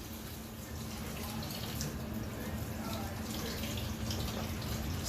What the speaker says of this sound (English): just a good clean rinsing of the chicken is not going to hurt anybody